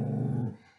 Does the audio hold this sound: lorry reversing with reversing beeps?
no